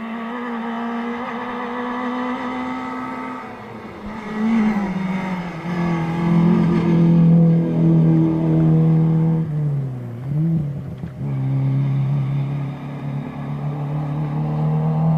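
A Vauxhall Corsa rally car runs on a rally stage in Argyll, its engine loud and close, revving and dropping through gear changes as it passes, alone with no talk.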